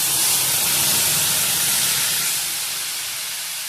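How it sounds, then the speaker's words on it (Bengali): Water poured into a hot pan of fried radish with turmeric and salt bursts into a loud, broad sizzling hiss that gradually softens and settles over a few seconds, with no talk. "এবার দিয়ে দিচ্ছি সেদ্ধ করার জন্য জল"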